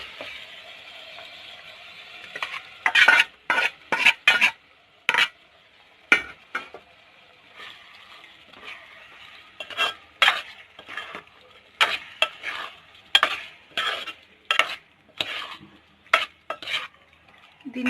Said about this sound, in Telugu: ఇప్పుడు మనం మ్యారినేట్ చేసుకున్న మటన్ ముక్కలు వేసుకోండి.